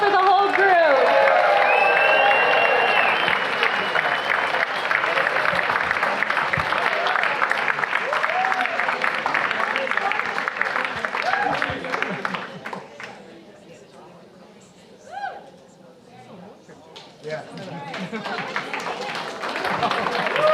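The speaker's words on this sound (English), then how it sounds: "one last round of applause for the whole group" An audience gives a dance group one last round of applause, loud clapping with cheers and whoops close at hand, swelling early then thinning and fading out, with talk running underneath toward the end.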